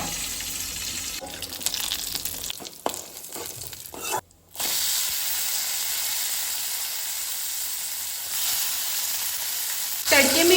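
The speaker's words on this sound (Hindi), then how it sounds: "जैसे ही तेल गरम हो जाए तो हम इसमें डालेंगे थोड़ा सा जीरा और मस्टर्ड सीड्स, कड़ी पत्ता" Cumin, mustard seeds, curry leaves and hing sizzle in hot oil for a Goan green chilli curry, a loud steady hiss broken by a brief quiet gap, then a sharper crackle at the end.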